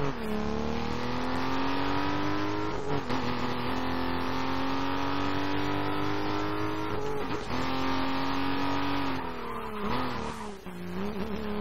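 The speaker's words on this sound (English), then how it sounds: "Bit of handbrake turn." A car engine in the video game Need For Speed Most Wanted howls at high revs through a handbrake turn, the pitch dipping and climbing with brief tire squeal, loud and continuous.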